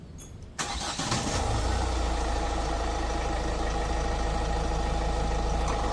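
A Mahindra Marazzo with a low-pickup fault cranks and starts after a quiet moment, then settles into a steady, loud idle rumble that carries on alone to the end.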